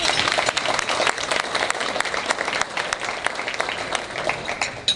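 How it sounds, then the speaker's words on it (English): Audience applause at an Illinois State Rifle Association gathering, a steady dense patter of many hands clapping throughout, moderately loud and fairly close, with no talk over it. "and for that you deserve applause."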